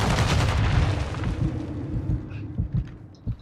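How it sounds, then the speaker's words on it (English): A big bomb-drop explosion in Call of Duty DMZ, a loud booming rumble that fades over a few seconds, followed by scattered faint pops and distant shots. "Bomb drop behind you."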